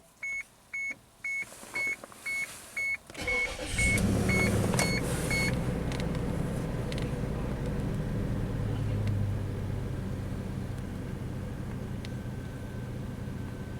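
An Isuzu Rodeo gives a series of regular warning chimes, then the engine cranks, catches and settles into a steady, smooth idle that stays close and even.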